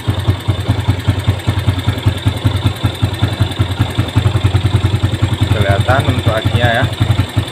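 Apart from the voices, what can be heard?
Yamaha Jupiter Z1 motorcycle engine running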